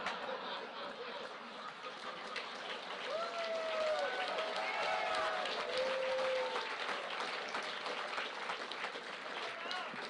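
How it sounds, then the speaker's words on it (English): Crowd applause at a Donald Trump Jr. campaign rally in Tipp City, a sustained, loud wash of clapping and cheering with a few whistles rising above it, steady throughout. "pause for applause."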